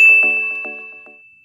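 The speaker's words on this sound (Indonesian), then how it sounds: "jangan lupa nyalakan lonceng notifikasi" A notification bell rings once with a bright, clear metallic ding that starts loud and slowly fades away, alone in silence.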